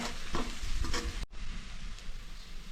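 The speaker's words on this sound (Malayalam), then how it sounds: "ഒന്ന് നന്നായിട്ട് ഇളക്കി യോജിപ്പിക്കുക" Spice powders are stirred in a hot pan for a prawn roast, giving a soft, close sizzle with scraping strokes in the first half, a brief cut, then a quieter continuing fry.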